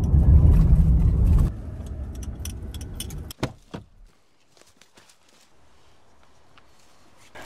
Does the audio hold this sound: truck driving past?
yes